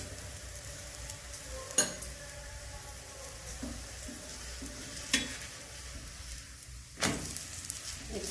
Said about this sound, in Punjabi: ਇਹਨੂੰ ਆਪਾਂ ਨੇ ਘਿਓ ਪਾ ਕੇ ਹੌਲੀ ਹੌਲੀ ਸੇਕ ਲੈਣਾ ਹੈ